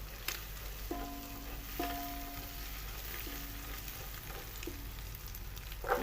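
Chopped cabbage, capsicum and carrots go into a pan after egg for egg fried rice, giving a quiet, steady sizzle with a few soft stirring scrapes and clinks, no talk.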